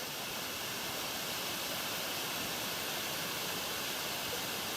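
Small waterfall on a bush walking track in the Wentworth Falls area: a steady, even hiss of falling water, fairly soft and unbroken, with no voices.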